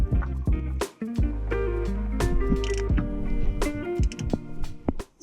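A motor mount bolt on a Tacoma is snugged down by hand up close, giving a run of rapid ratcheting clicks and metallic taps with short pauses between strokes.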